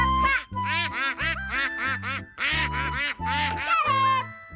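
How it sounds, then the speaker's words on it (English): A cartoon duck quacks in a quick string of nasal, bouncy calls in several bursts, close and loud, in the manner of a character's animated voice. "Quack, quack, quack."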